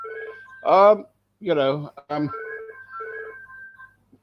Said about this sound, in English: The phone's going.